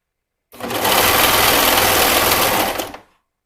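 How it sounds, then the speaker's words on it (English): A serger stitches a fabric seam for a princess-seam gown, trimming the edge as it runs: one steady, dense mechanical whir lasting about two and a half seconds, close and loud, with no talking. "I'm going to be sewing mine with my serger."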